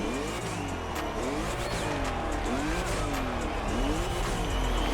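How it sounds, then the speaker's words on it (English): Porsche 911 Carrera 4S in The Crew Motorfest, engine revving and climbing through gears with repeated rising sweeps and some tire noise, loud and continuous with no talking. "Sounds like a Porsche."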